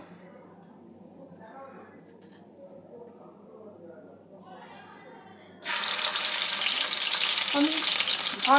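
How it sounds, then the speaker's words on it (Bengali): Fish hits hot mustard oil in a wok and erupts into a loud, dense sizzle after several seconds of quiet talk, the crackling hiss staying strong to the end. "মাছগুলো এবার এক এক করে ভেজে নেব।"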